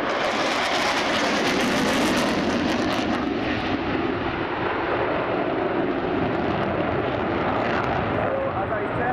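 Military jet aircraft performing a flying display at the RIAT 2016 airshow, a loud continuous engine roar filling the air for the whole stretch, with a distant commentator's voice faintly beneath it.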